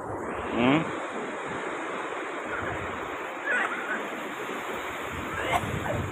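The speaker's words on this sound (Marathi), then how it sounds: "समुद्र एवढा मस्त नजारा आहे, कसं सुंदर असं लाटा दिसतात." Sea waves roll onto Arambol beach in Goa, a continuous broadband wash of surf with wind buffeting the microphone, a few brief bird-like chirps and a voice in the background.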